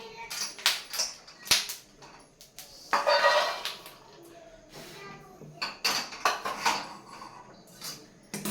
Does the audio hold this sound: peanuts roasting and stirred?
yes